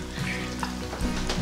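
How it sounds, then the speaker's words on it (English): Crappie fish frying in oil, a steady close sizzle with small popping bursts and no voices. "It's really frying up good."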